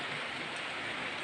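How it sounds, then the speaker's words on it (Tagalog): Heavy rain pours steadily on a hut roof in Cebu, a dense continuous hiss with no gaps, close and loud throughout. "Grabe ang ulan, no."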